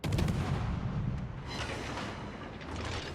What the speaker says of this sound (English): I'm going to shoot at that Pensacola. I've switched over to AP so I can do more damage to him.